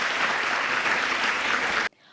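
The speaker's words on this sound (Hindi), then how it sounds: "उन सभी बेटियों को आज के दिन याद करते हुए उनकी इस कंट्रीब्यूशन के लिए एक जोरदार तालियों के साथ हम आज के इस समारोह की शुरुआत करते हैं।" Hearty applause from the audience at a ceremony honouring daughters, dense and even, held for nearly two seconds before cutting off abruptly into silence.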